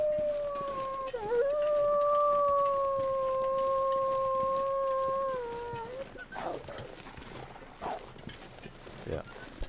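A wolf in The Long Dark video game lets out a long, loud, sustained howl that wavers and then fades out, followed by quieter rustling ambience.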